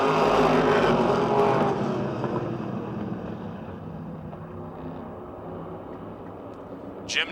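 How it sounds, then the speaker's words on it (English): Open-wheel modified race cars roar off at the green flag on a speedway, a loud, dense engine roar that fades slightly as the pack pulls away, with a brief sharp burst near the end. "Ten laps for the open wheel modifieds. Green flag is out."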